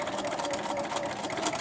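Sewing machine fitted with a walking foot stitching a quilt block, a steady rapid mechanical whirr running continuously and close by at moderate volume.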